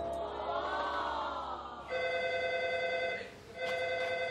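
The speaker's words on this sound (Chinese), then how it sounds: "电话来了" A telephone rings in a rural house with a bright electronic tone: a wavering ring, then repeated steady tone bursts after a short dip, fairly close and clear with little background.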